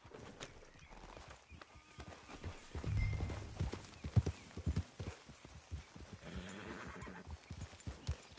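Horse hooves clip-clopping at a trot in the video game Red Dead Redemption 2, a steady rhythmic beat of hoof strikes with an occasional whinny and brief low voices.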